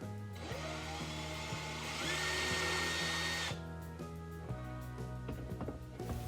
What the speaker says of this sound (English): I'm going to pre-drill in the oak faces so that the wood doesn't split out